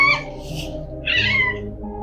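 A house cat meows twice, close and clear, short and bright, separated by a brief gap, over a low steady background hum.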